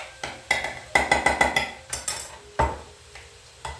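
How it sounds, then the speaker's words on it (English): A utensil knocks and scrapes against a cooking pot while butter is stirred in for a shepherd's pie, making a string of sharp metallic clanks in an uneven rhythm, close and loud. "Little bit of butter, okay? I'm going to mix it."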